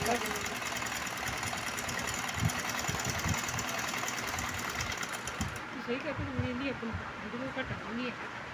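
A sewing machine stitches salwar cuffs in a steady, mid-level mechanical whir, then slows to uneven chugging as people talk over it in the second half.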